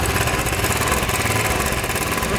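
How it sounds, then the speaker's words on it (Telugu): A Royal Enfield motorcycle engine idles up close with a head rocker fault, giving a loud, steady mechanical chatter and rattle that runs without a break. "చూడండి ఫ్రెండ్స్ ఇంజిన్లో నాయిస్ ఎట్లా వస్తుందో చూడండి"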